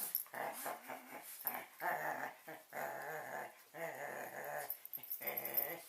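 A voice imitates a dog growling during a gentle yoga session: a series of rough, throaty growls and whimpering yips in uneven bursts, close and fairly loud, with short pauses between.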